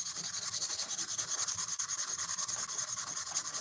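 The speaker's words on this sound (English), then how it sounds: "boiled linseed oil on your sandpaper, and that'll help with the dust and the sandpaper clogging." Sandpaper rubbing over wood on a Damascus friction folder knife handle, with boiled linseed oil on the paper, gives a steady, close, rhythmic scrubbing rasp that repeats evenly throughout with no talking.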